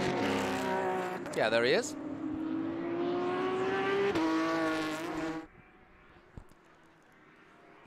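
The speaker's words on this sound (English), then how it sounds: "If I had to identify one racing sound, it would be an accelerating 911." A Porsche 911 race car accelerates hard on a road-racing track, its rising engine note climbing through gears before the car fades away into the distance. Someone speaks briefly over it.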